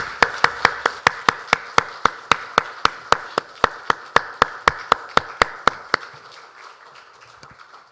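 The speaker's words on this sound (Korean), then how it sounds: "하나님께 영광의 박수를 올려드리겠습니다." A church congregation claps together in a slow, steady unison beat, about two dozen sharp, loud claps evenly spaced before stopping, leaving a brief quiet tail.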